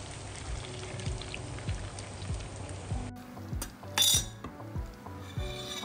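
Tarka tempering poured into a pot of kala bhuna, with repeated metal clinks and scraping of a utensil against the pot, a brief burst of hot-oil crackle midway, moderately close.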